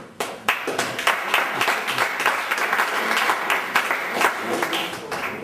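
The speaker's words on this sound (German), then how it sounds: "vielleicht geben wir nochmal einen Applaus dafür" Crowd applause for an ice hockey team at an EV Landsberg versus Passau game, a dense, sustained clapping from many spectators in an arena, rising sharply at the start and holding steady.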